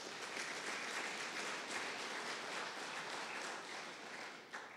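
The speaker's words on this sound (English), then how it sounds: "I'd like to give them a round of applause." An audience at a community water summit in Wolfeboro claps in sustained, even applause that fades slightly near the end, faint and at a distance.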